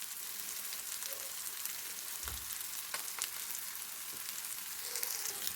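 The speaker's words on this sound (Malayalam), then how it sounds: "നമ്മുടെ മത്തിയെല്ലാം നല്ലപോലെ ഫ്രൈ ആയിട്ടുണ്ട്." Sardines fry with curry leaves in a pan, giving a steady, dense sizzle with crackling pops throughout. It is close and fairly loud, and no one speaks.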